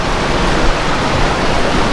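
Rough, stormy sea churns close by, a dense steady roar of breaking waves and surf with no voices over it.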